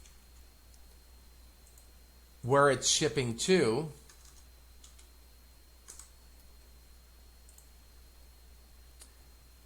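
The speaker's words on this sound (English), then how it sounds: "We'll punch in our zip code" Shipment details being keyed into a logistics dashboard on a computer keyboard: a few faint, sparse clicks follow a short stretch of speech and then continue quietly under room tone.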